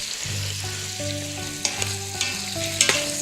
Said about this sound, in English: we want to fry that bacon and get it a little bit crispy